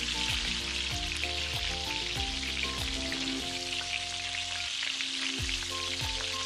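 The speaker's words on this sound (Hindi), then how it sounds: "यहाँ पे मैंने आधा किलो चिकन डाल दिया है और इसको 7 से 8 मिनट के लिए हल्का गोल्डन होने तक पका लेना है" Half a kilo of chicken fries in a pot for a one-pot chicken and vegetable rice, a steady dense sizzle running beneath continuous background music.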